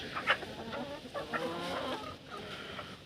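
Hens in a poultry shed give soft, scattered clucks close by, a few short calls spread through about three seconds against a low background hum, with no talking.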